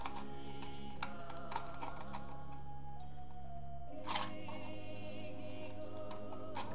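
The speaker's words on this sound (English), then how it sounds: "So I'm just gonna cut through these real quick." Scissors snipping strips into an aluminum can to make an ashtray, a series of small crisp clicks and cuts close by over a steady background hum, with a denser metallic crunch near the middle.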